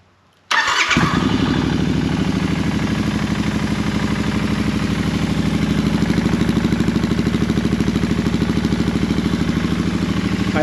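A Royal Enfield Continental GT 650 cafe racer fitted with a Scorpion exhaust fires up abruptly after a brief silence, then settles into a loud, close, steady rhythmic idle with a deep pulsing thump and slight revving.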